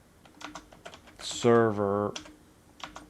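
Keys tapped on a computer keyboard while entering a command at a command line, in quick irregular clicks close to the mic, broken midway by a brief sustained voiced tone and a spoken word.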